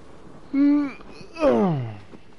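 A horse in the video game Shadow of the Colossus whinnies twice in quick succession, each call a loud rising-then-falling neigh close by, with quiet background between.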